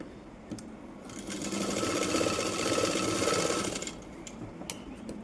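Sewing machine stitching a hook belt for a blouse, a steady close mechanical whir that swells louder through the middle and then eases back, with brief clicks at the start and end.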